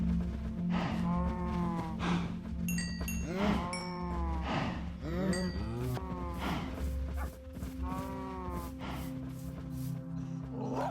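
Cows in the Minecraft video game moo repeatedly, several drawn-out calls following one another at close range over a steady background tone, with a few short high game blips among them.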